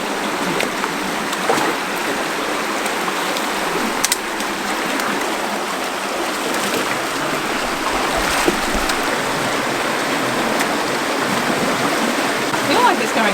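A strong, fast-flowing creek rushing after flood debris is cleared, with steady loud broadband water noise close by that carries on throughout.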